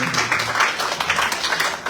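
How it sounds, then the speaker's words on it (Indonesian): Church congregation claps together in a dense, steady burst of applause that carries on throughout, fairly close and loud. "Berikan tepuk tangan untuk Anda."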